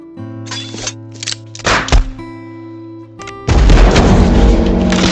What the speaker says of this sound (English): Jiang Ji's quick draw and shooting sparked a Quentin-style scene of aesthetic violence